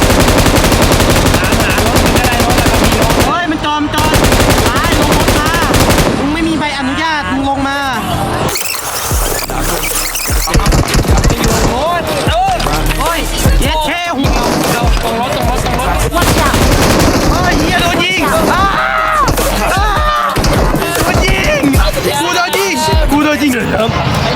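Rapid bursts of automatic gunfire crackle through a PUBG match, loud and repeated over several seconds, mixed with excited shouting from players talking throughout.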